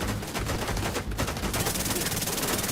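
The Chatterbox submachine gun fires in sustained, rapid automatic bursts in The Division 2, loud and close, with a dense rattling stream of shots. A brief gap in the fire comes before it resumes.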